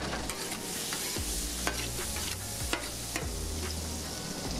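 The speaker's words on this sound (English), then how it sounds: "Gonna throw us a little bit more butter down on the grill." Butter sizzles on a flat top grill while cooking asparagus, a loud, steady frying hiss up close, broken by scraping and stirring of a spatula on the hot metal, with no talking.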